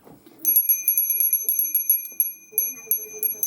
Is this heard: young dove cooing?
no